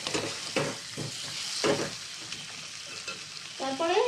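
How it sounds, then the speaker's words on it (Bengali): Fried potatoes stirred into masala for Kashmiri aloo dum, with a dense close sizzle and repeated rhythmic spatula scrapes against the pan and no voices. "দিয়ে মশলার সঙ্গে আলুগুলো ভালো করে মিশিয়ে নিচ্ছি।"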